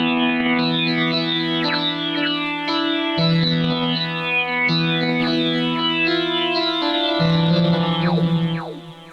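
A synthesizer patch with echo and a resonant filter plays sustained chords that change every few seconds, with bright sweeping overtones, repeating echoes and a loud, continuous tone and no voice.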